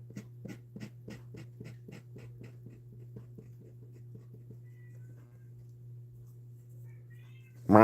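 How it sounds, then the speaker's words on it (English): A house cat meows abruptly and loudly right at the very end, following several seconds of steady low hum and a run of soft rhythmic taps from live painting. "My cat is meowing in the background."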